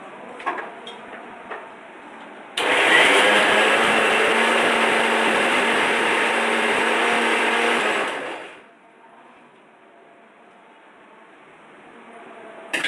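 A mixer grinder roars steadily for about six seconds as it grinds a coconut masala for misal pav. The sound is loud and close, then winds down to leave quiet room tone.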